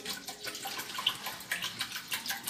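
Water poured over rinsed rice, about 1.5 litres, a continuous soft splashing trickle with a slightly pulsing flow, fairly quiet and with no voice.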